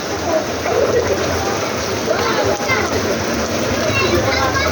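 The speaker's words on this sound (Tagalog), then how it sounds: "lakas ng ulan nabasa si Lala" Dense, steady downpour hissing loudly and evenly throughout, with a faint voice somewhere beneath the rain.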